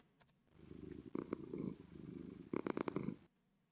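A cat purrs softly in Minecraft, two rhythmic stretches, each a low rumbling flutter, quiet and close, with a short gap between them.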